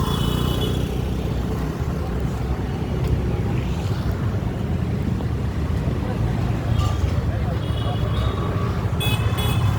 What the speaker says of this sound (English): where there happens to be lots of traffic here